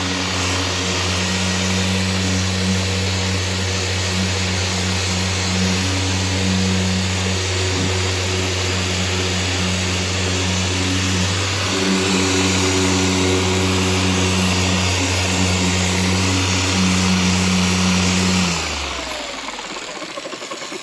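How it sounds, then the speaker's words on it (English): A steady, loud machine drone with a strong low hum runs unbroken for about eighteen seconds as a polishing buffer works clear coat on car paintwork, then winds down and cuts out near the end. "So now I'm going to go with the buffer."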